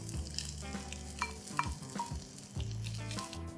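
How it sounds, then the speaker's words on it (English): Freshly grated coconut sizzles and fries in hot ghee in a pan while being stirred. A steady crackle is broken by soft scraping and clinking of the spoon, with no talk. "For this, I'm going to take some ghee again. And to this, I'm going to add in freshly grated coconut."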